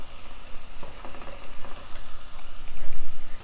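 Chopped onions sizzle steadily in hot oil for an okra fry, a dense, continuous crackle with soft stirring scrapes rising and falling through the whole stretch, close and fairly loud with no voices.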